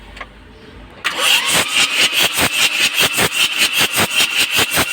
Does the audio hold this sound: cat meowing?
no